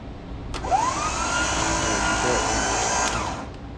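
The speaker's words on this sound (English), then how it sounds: "I'm hooking it to the back of this bolt and I'm hooking it to here, and the winch is working." An electric winch runs on an HMMWV M1114 Hummer with a ground fault, a close, steady motor whine that starts abruptly, holds for about three seconds and then stops.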